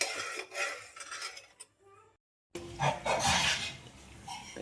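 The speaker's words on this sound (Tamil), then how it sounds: "இப்போது மல்லாட்டையை நல்லா வறுத்துக்கணும்." Peanuts dry-roasting in a pan for a homemade ragi adai, with steady scraping and rattling as they are stirred, close and moderately loud, broken by a short silent gap before the clatter resumes.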